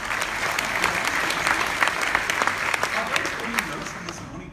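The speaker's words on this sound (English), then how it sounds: "Can we give Mariana a round of applause?" An audience claps for a speaker at a live session, a dense sustained round of applause with crisp individual claps, fairly close and loud, with no talk over it.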